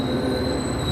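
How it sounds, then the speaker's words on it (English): New Jersey Transit trains at a station in Newark give a continuous rumbling rail noise with a thin high steady whine, heard close and alone for under a second. "these are the New Jersey Transit trains, and here's the light rail departures"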